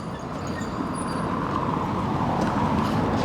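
A car passes nearby on a road: a steady broadband rush that slowly swells as it approaches, fairly loud and continuous, with no talking.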